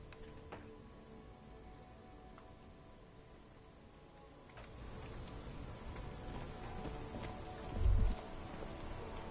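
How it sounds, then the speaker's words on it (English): Rain falls on the city of Revachol in the video game Disco Elysium, a steady patter that swells louder partway through, with dripping and a brief low thump near the end, no voices. "Rain drips from the eaves and floods the gutters, washing the filth away."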